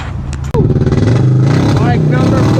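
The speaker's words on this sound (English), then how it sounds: "It sounds like your bike's shit." An old, cheap motorcycle engine runs nearby in a steady, rough drone with a brief cut-out, while people talk over it.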